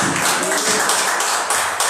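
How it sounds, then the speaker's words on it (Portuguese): A church congregation claps for Jesus during worship, a brief, loud, dense patter of many hands close by, continuous with no pause. "palmas para o Senhor Jesus"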